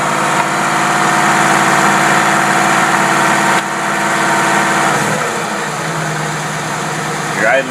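A marine boat engine fitted with a rebuilt Rochester Quadrajet carburetor idles loud and close with a steady, even drone that shifts slightly partway through, and a brief rise near the end.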